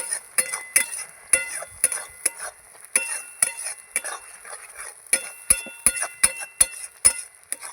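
A metal lid and spoon clink and scrape against a pot of cooking dal, a close series of sharp, irregular metallic knocks and taps over a faint steady hiss, without any talking.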